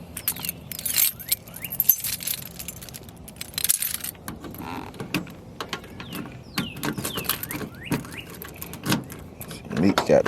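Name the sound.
original 1985 GM car keys jangling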